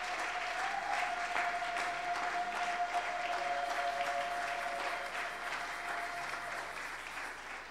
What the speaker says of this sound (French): Nous allons acclamer pour le Seigneur